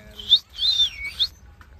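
A pet parrot gives three quick, high chirps close by, with short pauses between them and a quiet background.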